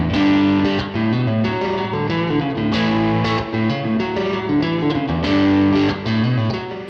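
An electric guitar runs through an Antique overdrive pedal straight into a clean amp, playing a loud, gritty riff of strummed chords and single notes for several seconds.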